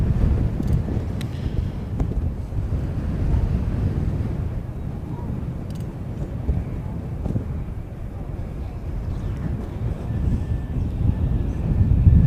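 Breezy wind at Christchurch airport during plane spotting, gusting and buffeting the microphone in a steady low roar with brief thumps throughout.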